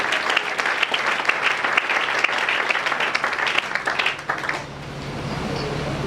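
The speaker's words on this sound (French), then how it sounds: "Acclamons pour le Seigneur Jésus-Christ" Congregation in a church applauding for Jesus Christ, dense sustained clapping from many people that fades out near the end, leaving a low murmur.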